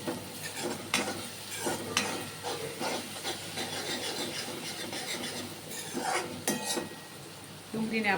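Finely chopped onion frying in a pan for dal, with steady sizzling under repeated scraping and rubbing strokes of a spoon stirring, close up and without voices.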